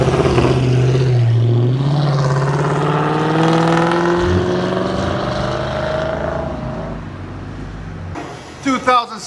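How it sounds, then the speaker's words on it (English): A stock 2016 Dodge Challenger R/T with a 5.7L HEMI V8, factory catalytic converters, X pipe and mid resonator, revs loud and near, a deep engine roar rising and falling before easing off, with voices underneath. "2016 Dodge Challenger Hemi RT. Still got everything stock. Catalytic converters. Got a factory X pipe. Got a factory mid muffler or mid resonator."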